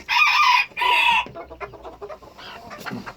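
Chickens and a rooster call loudly and close by at feeding time, with two strong crowing bursts followed by softer, scattered clucking.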